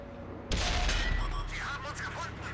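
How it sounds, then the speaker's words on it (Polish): Tank cannon firing in World of Tanks on the Nomonhan map, a single sharp boom that rolls into a low rumbling tail and echo, heard alone. "No tutaj oddałem strzał, chciałem zobaczyć, czy po prostu pojazd traci kamo"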